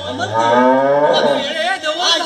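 A cow named as a cattle of the household moos loudly and close by in a long, drawn-out low call, continuing through the whole short stretch with no talk over it.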